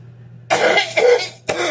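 Two or three harsh coughs in quick succession, close and loud, with a short pause between bursts and no talking.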